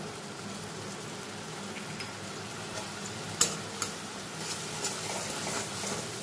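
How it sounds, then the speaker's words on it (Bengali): Spice paste frying in oil as it is stirred, a soft steady sizzle with occasional scraping clicks of a utensil against the pan, close and fairly quiet, no voices. "মশলাটা একটু ভালো করে আমি কষিয়ে নেব"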